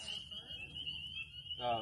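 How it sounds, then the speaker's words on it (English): A steady high-pitched frog call rings continuously, a thin beeping, piping tone, on a night hike at Morrow Mountain State Park, while a person talks over it near the end. "Frog. Yeah. You hear the beep, beep."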